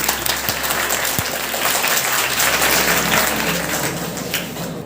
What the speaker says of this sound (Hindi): अनुज के लिए भाई तालियां तो बजती हैं।